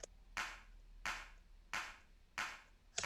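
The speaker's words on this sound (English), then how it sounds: "Like a real clicky sounding clap." A clicky clap snare sample from the ToeJam & Earl Mega Drive game strikes five times in a steady, evenly spaced groove, each hit a sharp bright crack with a short fading tail, alone and fairly quiet.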